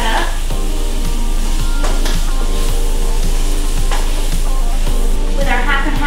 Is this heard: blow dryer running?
no